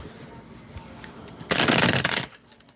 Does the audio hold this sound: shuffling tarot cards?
yes